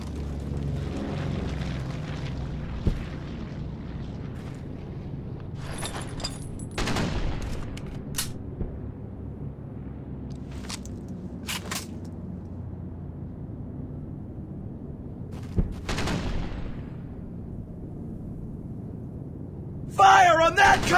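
A .30 cal machine gun fires in the WWII shooter Brothers in Arms: Hell's Highway, with bursts and sharp cracks over a steady rumbling battle din and voices calling out at times.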